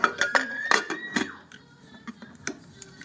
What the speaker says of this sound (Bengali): ভালো করে নেড়ে এবার দিয়ে দেবো ঢাকনা।